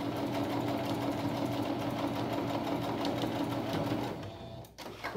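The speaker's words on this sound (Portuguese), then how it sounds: "Posso costurar daqui da ponta de cá pra lá ou da ponta de lá pra cá." Sewing machine running steadily while stitching a fabric placemat with two-color appliqué, a continuous close mechanical whir that slows and briefly stops near the end.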